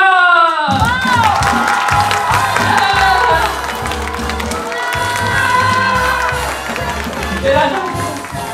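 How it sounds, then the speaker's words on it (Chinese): An audience at a magic lecture and show in a Taichung department store erupts in loud screaming, cheering and clapping to welcome a magician, with shouting voices riding over the steady applause. "让我们用最热烈的掌声欢迎魔术师黄伯汉。"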